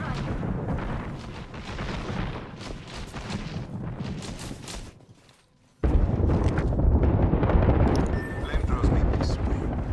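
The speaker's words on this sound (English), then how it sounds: "Airstrike." An airstrike in Apex Legends pounds out a run of heavy, rumbling explosions, broken by a brief near-silent gap before another loud blast and continued booming, with players talking over it.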